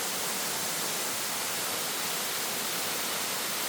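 Water pours down the two tiers of Wibong waterfall over a 60 m rock cliff, a constant, full rushing roar that fills the air evenly, close and unbroken, with no talking.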